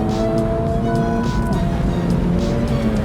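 A 2024 Acura Integra Type S accelerates hard in a drag race, its engine a steady loud drone with rising tonal pitch, heard continuously without a pause.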